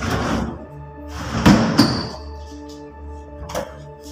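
Old drawers at a nurses station on the fourth floor of an abandoned hospital give a few hollow thunks and scrapes, with one louder knock in the middle, close by in a quiet room.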